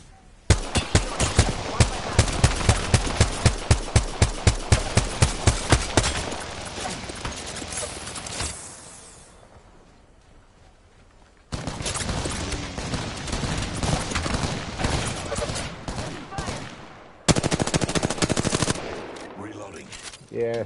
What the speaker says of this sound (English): Taking fire.